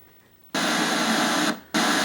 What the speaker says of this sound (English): you get silent white noise, which is kind of weird